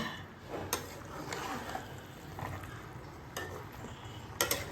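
Fish pieces for chilli fish being mixed in a bowl or pan: quiet, soft stirring with a few scattered utensil clinks against the vessel.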